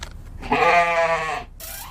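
A goat gives a single loud, wavering bleat close by, lasting about a second, with no other voices around it.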